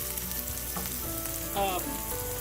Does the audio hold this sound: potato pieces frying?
yes